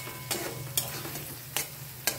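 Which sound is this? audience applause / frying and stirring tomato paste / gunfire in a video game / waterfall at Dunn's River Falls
frying and stirring tomato paste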